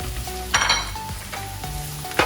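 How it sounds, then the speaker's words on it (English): Onions sauté in a hot pan with a steady close sizzle, broken by a few louder bursts as they are stirred and scraped around. "Just saute it until it all softens up."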